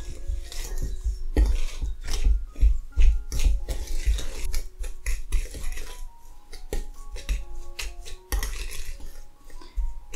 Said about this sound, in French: On remélange.